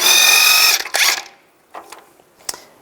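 A power tool spins off the castle nut on a 2005–15 Nissan Xterra during lower ball joint work, a loud whirring burst about a second long, a short second burst, then quieter clinks of parts.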